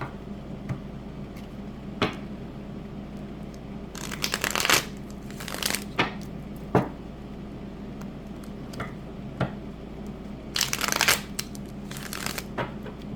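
Tarot cards being shuffled close up, quiet riffling bursts and soft slaps in several bouts over a low background hum, with no talking.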